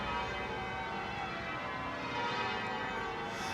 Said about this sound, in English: There goes the famous church bells